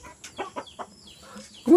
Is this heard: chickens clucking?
yes